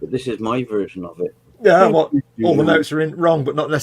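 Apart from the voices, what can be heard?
No distinct noise like a dog, phone or traffic.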